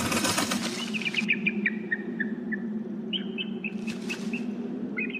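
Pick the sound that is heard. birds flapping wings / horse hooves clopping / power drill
birds flapping wings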